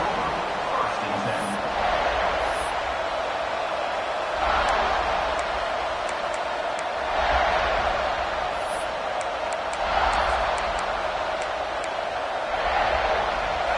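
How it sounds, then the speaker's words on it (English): A football stadium crowd at a South Carolina versus Arkansas game roars in waves, swelling several times over a continuous murmur while an announcer talks over it. "This crowd ready to make its presence known."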